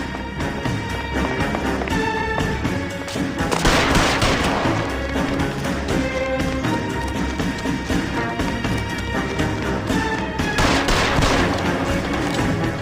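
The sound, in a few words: gunshots in video game L.A. Noire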